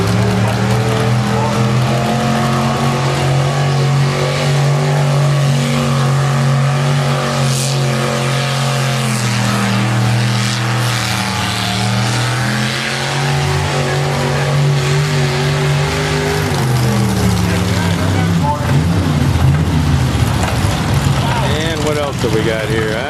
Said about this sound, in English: Just caught a little bit of the tractor parade there as we were coming in.